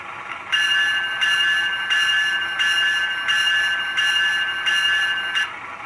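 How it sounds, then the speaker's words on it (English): A Graham White E-bell rings on a ScaleTrains Rivet Counter CN ET44AC model locomotive in EJ&E heritage 3023 livery, sounding a steady, evenly spaced series of bright electronic bell strikes, close and clear over a faint background hiss. "Function number 1 is the Graham White E-bell."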